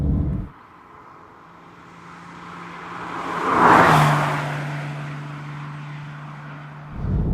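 A Porsche 911's engine is revved, its note swelling to a loud peak midway and then settling into a steady drone before cutting off, heard from nearby with no talking.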